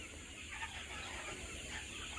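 Chickens cluck at a poultry farm in Kashil village, Basail, Tangail, as a steady, moderately loud murmur of many birds with continuous background noise and no talking.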